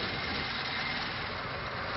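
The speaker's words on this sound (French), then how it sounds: "Vous pouvez remarquer le ralenti de la voiture." An antique Panhard car engine idling, a steady low rumble with even mechanical hum, continuous and fairly near with no voices.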